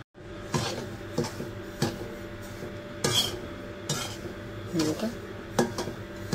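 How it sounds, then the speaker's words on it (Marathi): Semolina dry-roasting in a pan over medium-to-low heat, stirred with a utensil that scrapes and clinks against the metal in irregular strokes, close up over a low steady background. "आपण हा रवा आता भाजून घेऊ"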